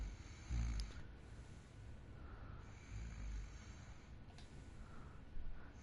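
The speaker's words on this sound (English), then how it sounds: "You sigh with relief when you hear snoring." Snoring in the horror adventure game Yesterday Origins, slow deep rasping breaths that swell and fade in a regular rhythm, low and muffled, alone in a quiet room.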